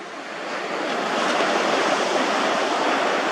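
Ocean surf breaking on a beach, a steady broad wash of waves that swells and holds loud and close, with faint wind noise and no voices.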